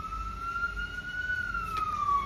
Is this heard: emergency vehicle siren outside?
yes